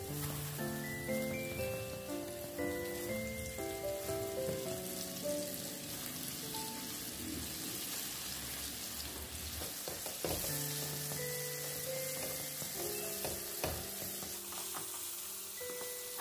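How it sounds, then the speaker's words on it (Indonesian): Oil sizzles and crackles steadily while battered chicken deep-fries, under music that plays throughout; no one speaks. "Kalau minyaknya sudah panas, kita masukkan ayam tepungnya ya. Kita goreng sampai kuning keemasan"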